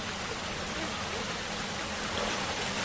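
Stream water rushes steadily, like water flowing from a pipe, a continuous close, even wash with no voices.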